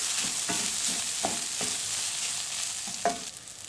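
Rice and bulgur roasting in a pot while being stirred, giving a soft continuous sizzle with rhythmic scraping strokes of a spoon against the pot.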